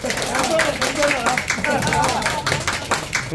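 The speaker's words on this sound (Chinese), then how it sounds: "掌声，掌声啊！" Group clapping at a farewell gathering for a retiring ship's chief engineer, fairly close and uneven, with distinct hand claps mixed with lively voices and chatter across the room.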